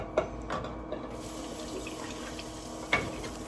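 Hot water is scooped from a pot during home canning, giving soft sloshing and splashing with a couple of sharper clinks of the scoop, quiet and close, with no talk.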